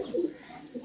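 A racing pigeon in a loft gives a short, soft coo, close and faint, heard alone.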